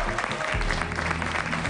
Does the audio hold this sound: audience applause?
yes